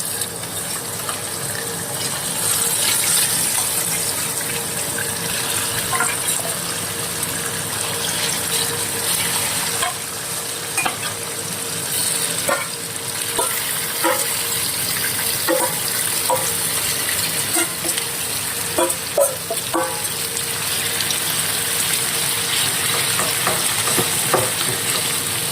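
A second batch of tuna pieces for pickle fries in reused oil, giving a steady loud sizzle with scattered pops and occasional stirring clinks throughout, with no talking.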